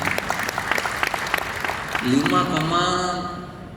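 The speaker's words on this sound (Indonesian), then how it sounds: "ini boleh tepuk tangan" Audience applause breaks out during a speech by Indonesia's trade minister, a dense crowd clapping that swells steadily, with the speaker's voice continuing over it in the second half.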